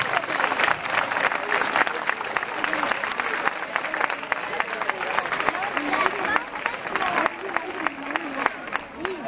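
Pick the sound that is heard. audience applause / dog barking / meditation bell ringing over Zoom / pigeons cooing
audience applause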